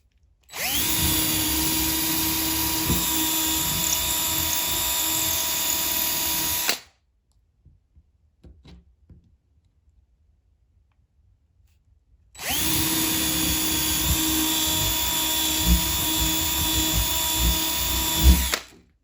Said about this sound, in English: I can drill a hole for the feeder